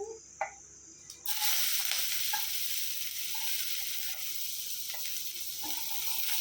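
Garlic and ginger hit hot sunflower oil and burst into a loud, steady sizzle after a couple of light clinks, the frying hiss holding strong and close with occasional small pops.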